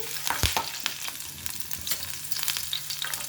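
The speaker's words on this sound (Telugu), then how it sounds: "రెండు పచ్చిమిర్చి వేగించుకుందాం." Two green chillies fry in hot oil, a soft close sizzle with stirring scrapes and light pops.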